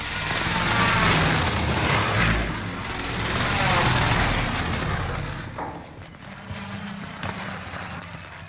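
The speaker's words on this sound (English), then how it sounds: "Allied precision airstrike incoming." Airstrike explosions and gunfire in the video game Call of Duty: Modern Warfare, with deep booms and rattling shots rolling in heavy waves, then thinning to scattered shots; a voice talks over the battle noise.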